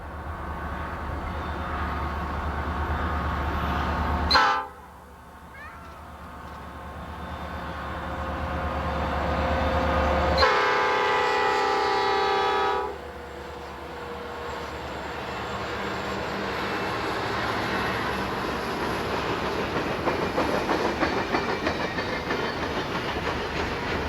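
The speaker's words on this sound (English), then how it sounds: "Ed documented Train 169 at Central with a former Southern Railway EMD switcher in tow" A slow-moving Norfolk Southern freight train hauling a former Southern Railway EMD switcher rumbles past loudly, with a sharp horn-like break and rolling clatter that fades into a steadier distant wash.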